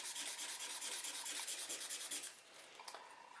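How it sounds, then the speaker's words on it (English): Hand sanding of a metal jewelry piece with rapid, rhythmic back-and-forth scratchy strokes, close and fairly loud, then stopping and giving way to a few faint light taps. "I'm going to sand across the piece this way"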